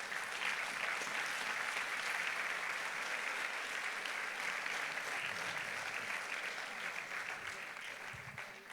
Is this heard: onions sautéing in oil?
no